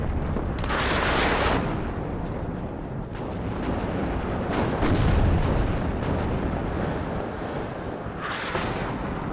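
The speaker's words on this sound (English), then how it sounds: "There's more artillery back here though" Artillery in the WARNO real-time strategy game pounds in repeated heavy booms and rumbling blasts, several sharp bursts standing out against a continuous loud battlefield roar, with no talking.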